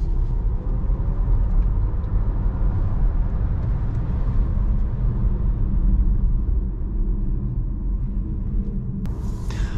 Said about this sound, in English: let's try to have some fun in the corners of this car, because this Volkswagen ID3 is of course rear wheel drive